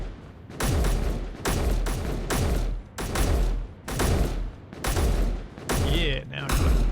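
Gun turret fire in the Space Engineers video game, loud repeated bursts of heavy automatic shots in a steady rhythm, each followed by a booming low tail, close and dominating.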